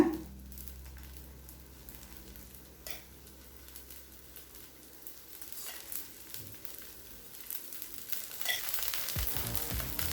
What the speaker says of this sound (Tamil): இப்போ எண்ணெய் சேர்த்துக்கலாங்க.